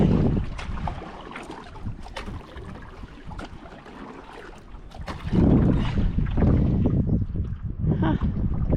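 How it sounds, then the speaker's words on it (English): Wind blowing across a lake around a canoe at a provincial park, loud rumbling gusts hitting the microphone that swell stronger partway through, with water splashes and no speech. "Huh, a little bit of wind."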